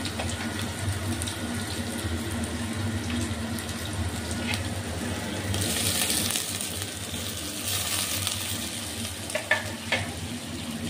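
Tomatoes and salt going into a pan of frying onions, a steady sizzle that swells into louder hissing bursts as they land, with a few clinks of a spoon near the end.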